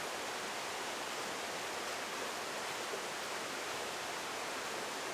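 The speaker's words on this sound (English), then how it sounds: "this water is not flowing anywhere near as fast and hard and as full as this" Waterfall and fast-flowing stream at Padley Gorge, heard as a loud, even hiss and roar of rushing water up close, constant throughout without any talking.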